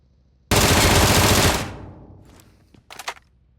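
Automatic gunfire from a PUBG Mobile match rips out in a loud, dense burst lasting about a second, then decays into a fading echo, followed by a couple of brief sharper sounds.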